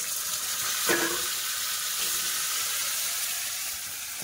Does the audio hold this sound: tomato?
yes